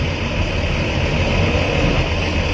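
A loud engine rumbles continuously with a deep, rough exhaust tone, steady and close.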